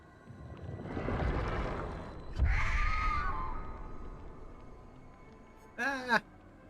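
Bird-like chirping calls from the silent killer in the video game Dead by Daylight, a brief rising warble midway and a quick burst of stacked chirps near the end, over a low rumbling game ambience.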